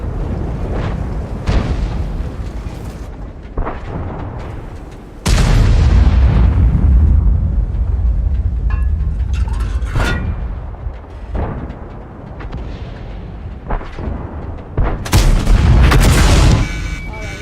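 Tank cannon fire and shell explosions from the World of Tanks video game: loud booming blasts with long rumbling decays, several heavy hits, under muffled game voices and background battle noise.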